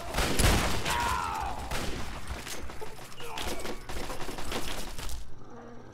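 Shotgun blasts ring out in the post-apocalyptic shooter Fallout 3, several sharp close reports amid combat noise, with a heavy thump early on before the sound cuts off abruptly at the end.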